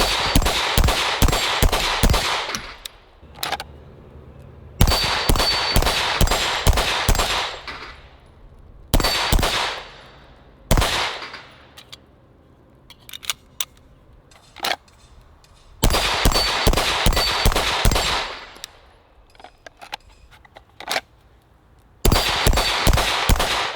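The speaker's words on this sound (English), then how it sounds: "So let's go shoot it." Pistol fitted with a red dot sight fired at an outdoor range, loud close strings of rapid shots with ringing metallic target clangs, separated by brief pauses.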